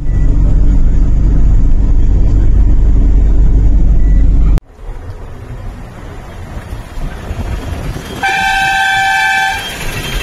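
A bus horn on a long bus journey in Odisha gives a loud, steady blare lasting about a second, close by, over heavy engine and road rumble, with no talk.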